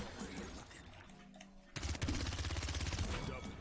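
Rapid gunfire from the Paladins video game, with quieter mixed game sounds first and then a dense burst of fast repeated shots that continues to the end.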